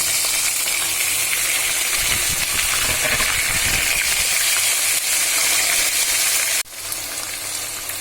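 Whole spices sizzle and hiss loudly in a hot pan while beef liver is fried, a dense crackling steam that drops abruptly in level near the end and continues more softly.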